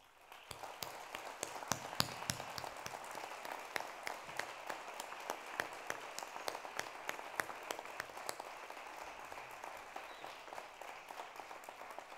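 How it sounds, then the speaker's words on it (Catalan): Sustained applause from an audience at a Fallas exaltation ceremony in Albalat dels Sorells, a dense steady patter of many hands clapping that holds evenly from start to finish, moderately distant, with no talk over it. "És per això que demano un fort aplaudiment per aquesta gent que no es veu"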